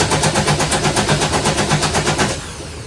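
A Volvo boat engine is cranked but fails to start, giving a steady rapid rhythmic churning that runs for over two seconds before cutting off, loud and close, with no talk.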